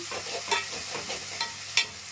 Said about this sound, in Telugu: మెంత కొంచెం వేగాలి పచ్చివాసన అంతా పోవాలి ఆయిల్లో